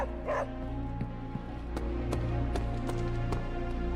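A dog in the Marvel's Midnight Suns video game gives a quick yip and a few soft barks over a steady, droning game music bed, fairly close but not loud.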